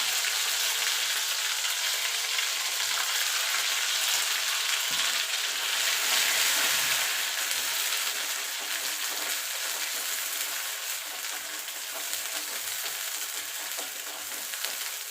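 Kharkol (ghetkol) leaf paste sautéing in a generous amount of hot oil, a dense, continuous hiss and sizzle heard up close, steady throughout with faint stirring and no talk.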